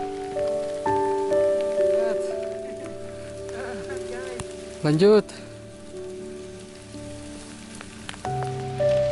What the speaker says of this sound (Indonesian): Cuacanya hujan teman-teman, terus treknya pasti licin kalau hujan.